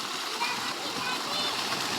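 Water gushes and splashes steadily as it flows into a farm field, a constant near rushing sound with a voice speaking over it.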